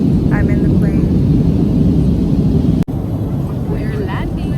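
Loud, steady roar of an airplane cabin during landing, a dense low rumble throughout with faint voices in the background and a brief click partway through.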